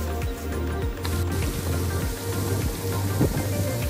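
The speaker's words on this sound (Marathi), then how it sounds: "छोट्या पाऊस थेंब पडायलेत." Light rain falls steadily during a mountain trek, a soft continuous patter with low rumbling wind or distant thunder underneath, no talking.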